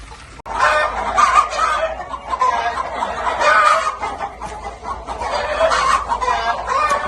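Black chicken breeding stock clucking steadily throughout, a dense flock of hens and roosters close by with overlapping calls and no talk.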